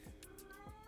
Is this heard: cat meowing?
yes